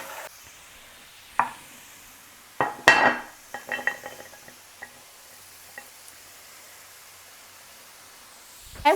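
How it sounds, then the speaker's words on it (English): Meatloaf casserole mixture being stirred in a pan, with scattered soft scrapes and clinks of a utensil against the pan, faint and close in an otherwise quiet kitchen. "And we're just going to stir it around."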